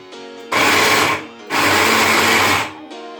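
Food processor chopping ingredients for spicy Turkish ezme, two loud whirring pulses of about a second each, separated by a short pause, with a quieter motor hum before and after.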